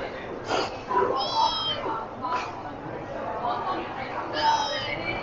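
Small kittens meow a few times inside a garden-style restaurant in Guangzhou, with short, high, close mews spaced through the moment over a murmur of nearby voices.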